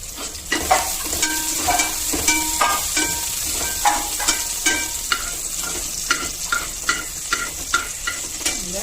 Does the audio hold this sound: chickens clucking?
no